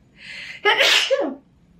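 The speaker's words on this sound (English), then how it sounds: "Oh my gosh, I might sneeze again." A single loud sneeze with a short breathy intake before it, close by, followed by quiet.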